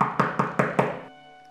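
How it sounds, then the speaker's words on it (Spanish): Five quick, solid knocks on a wooden door, evenly spaced and close, each ringing briefly before fading into a short quiet tail. "Llamó a la puerta"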